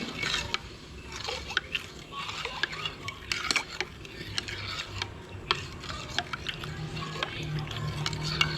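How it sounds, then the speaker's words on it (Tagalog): Leche flan mixture being stirred in a bowl for a creamy, no-evaporated-milk flan, with steady scraping and light clinking of a utensil against the bowl, close and moderately loud, with no talking. "So, haluin na natin maigi."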